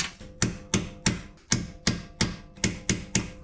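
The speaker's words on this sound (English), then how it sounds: "I can split the mount without letting it slide toward the center of the car when I hit it with the hammer" Hammer blows on the sway bar bushing mount of a Volvo XC90, nine sharp metallic strikes at a steady, even pace, close and loud with brief ringing after each hit.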